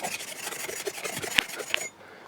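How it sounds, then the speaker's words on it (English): Abrasive Scotch-Brite pad scrubbing a tarnished copper bus bar, a steady close raspy rubbing with two sharp scrape peaks near the end before it stops. "this copper bar tarnishes really quickly, so I've just taken a Scotch-Brite, given it a little bit of a brightening"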